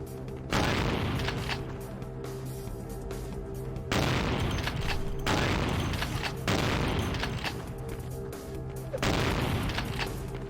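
Shotgun blasts in the video game VTM Bloodlines, four loud booming shots spaced a couple of seconds apart, each a broad burst that decays slowly over a low steady background hum.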